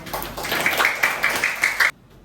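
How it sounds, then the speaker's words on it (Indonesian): A classroom of students applauds a presenting group, with a steady burst of clapping for about two seconds before it cuts off abruptly. "Kita kasih tepuk tangan buat temennya."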